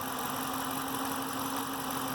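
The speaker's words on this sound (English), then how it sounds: "I can really hear it clicking, especially up against a building or, you know, kind of idling with the windows down." Car engine idling with a suspected lifter tick, a steady close mechanical hum with a fine rapid clicking texture throughout, no talk.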